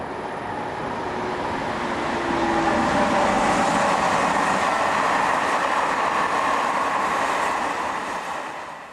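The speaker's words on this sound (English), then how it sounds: "Some services are through workings from Paris, as in this train hauled by" A locomotive-hauled passenger train from Paris, pulled by locomotive 26019, rumbles past steadily, its broad roar building gently, holding for several seconds, then starting to fade as it moves away.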